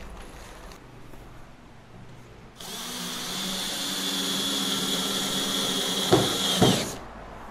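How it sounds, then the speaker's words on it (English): A power drill drives screws into the outer gunwale of a Tryst 10 trimaran sailboat. A low background hum gives way to a loud, sustained drill whine lasting about four seconds, ending with a couple of short bumps as the screw seats. "I'm going to finish off all the screws in it now and do the other side"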